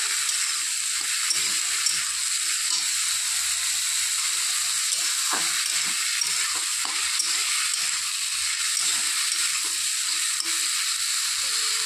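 Turmeric and green chilies sizzling in hot oil in a pan, with a steady loud hiss throughout and faint, scattered stirring scrapes underneath, and no talking.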